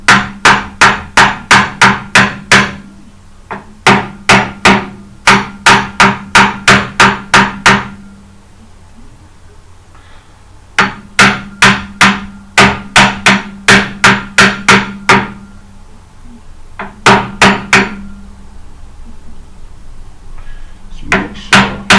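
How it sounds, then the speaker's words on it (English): A hammer strikes a homemade free-energy generator in rapid bursts of sharp, loud blows, about ten to twelve in a row, broken by short pauses, with no talk. "So you might need a bit of hammer to kick it in."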